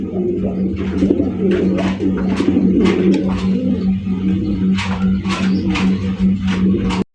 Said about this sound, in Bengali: দেখেন হাউস পিজনের কালেকশন, তা আবার অ্যান্ডালুজিয়ান কালারের হাউস পিজন কবুতর